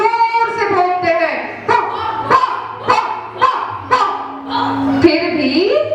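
A pack of dogs barks loudly in a shadow-puppet telling of the Jain story of King Shrenik: a dense run of overlapping yelps and barks, continuous and close.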